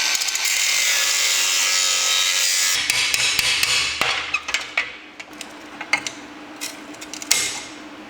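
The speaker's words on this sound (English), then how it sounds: "Now I'm going to chop off that incorrect body mount" A cutting tool grinds through an incorrect steel body mount on an Austin J40 pedal car axle, first a steady loud harsh rasp, then a pause and a series of irregular scraping bursts and metallic knocks.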